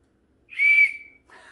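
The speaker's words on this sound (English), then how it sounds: "Should I see if it whistles?" A small figurine whistle bought at a thrift store gives one shrill, steady tone lasting about half a second. A shorter, breathier puff follows, close and clear in a quiet room.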